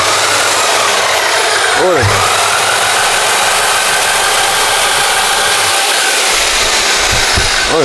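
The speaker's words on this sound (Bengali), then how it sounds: "এটা কারেন্টের সাহায্যে নাট খুলবে" An electric nut-removing drill machine runs with a steady, loud whine that dips and swells in speed around the two-second mark, then holds on continuously; voices may be faintly present beneath the motor.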